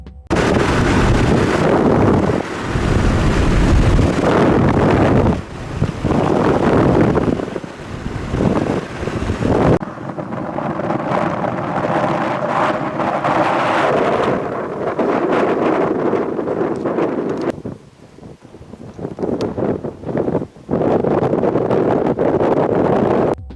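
A thunderstorm roars with strong wind that buffets the microphone almost continuously, loud and close, with deeper rumbling gusts in between and no voices.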